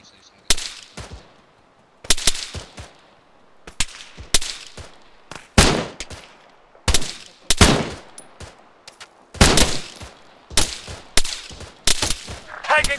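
Gunfire in the military game Arma 3 during a squad operation: repeated sharp, loud shots and short bursts cracking at irregular intervals with brief quiet gaps, echoing close by.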